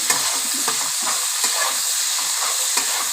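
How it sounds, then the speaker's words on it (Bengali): Potato, pumpkin and onion fry in a pan with a steady close sizzle, while a utensil stirs and scrapes in regular strokes; no talking. "এবার ভালো করে লাল করে ভেজে নেব আলু কুমড়ো পেঁয়াজটা"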